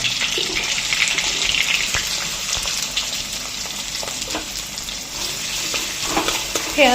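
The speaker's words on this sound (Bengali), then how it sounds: "চিকেন ফ্রাই হচ্ছে এখানে" Chicken frying in a home kitchen pan gives a steady, close hiss with scattered pops and crackles that run unbroken and fairly loud throughout.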